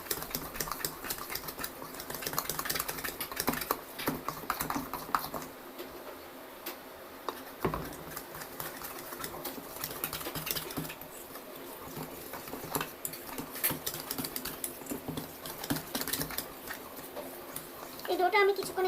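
Gram flour batter for paneer pakoras whisked by hand in a bowl: a fast, steady tapping and ticking that runs throughout, close by, with a person talking over it.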